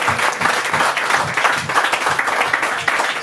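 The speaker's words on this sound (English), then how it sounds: "let me get a round of applause for you being here" Steady applause from an audience at a music benefit show in a New York club, dense clapping holding at an even level throughout with no speech over it.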